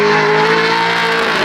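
Supercharged LSA Chevy Nova sleeper with cherry bomb salute mufflers pulls hard under acceleration, a loud, steady engine roar with strong harmonic drone held for the whole brief moment, close by and with no talking.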